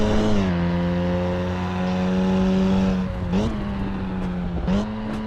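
Engine note from a car in the racing sim Assetto Corsa Evo, a steady droning hum held near constant revs, dipping briefly twice as if shifting gears, with no talking over it.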